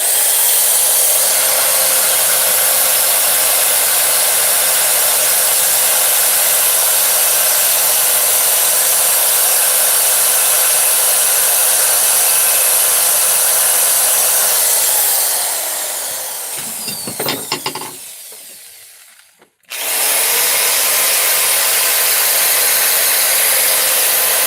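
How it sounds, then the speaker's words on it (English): A power polisher whines loudly and steadily against a small metal hot rod part, a bright, continuous electric hum that holds for about fifteen seconds, then winds down with a few scraping contacts before cutting off abruptly. "Finish polishing this little piece here."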